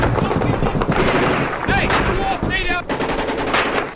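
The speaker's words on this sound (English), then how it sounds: "Taking heavy fire from..." Heavy gunfire rattles in a loud, dense, continuous barrage of rapid shots, with voices partly audible beneath the noise.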